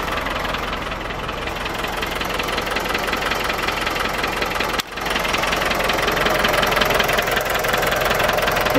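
An Iveco Daily 35-8 diesel engine idles steadily after ultrasonic injector cleaning, a loud, continuous knocking clatter close up that holds a smooth, even rhythm with one brief dip midway.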